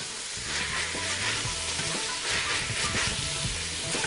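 Onions sauté in a stainless steel pan with a steady, moderately quiet sizzle and hiss, and faint stirring sounds run throughout.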